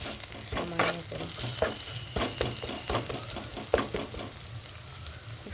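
Onions sizzle in a kadai with chana paneer masala spices, the crackling and frying punctuated by repeated stirring scrapes, close and moderately loud with no talking.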